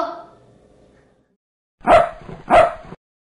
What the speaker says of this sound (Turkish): Bu bir köpek.